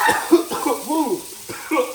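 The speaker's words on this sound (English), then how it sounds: "See, that's nice and hot and sizzling." Harissa chicken dumped into a hot pan crackles and sizzles close up, a hissing fry running beneath a person talking excitedly over it.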